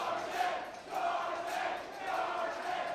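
A pro wrestling crowd roars at a live event in St. Louis, a dense, steady wash of cheering and shouting that swells in rhythmic waves.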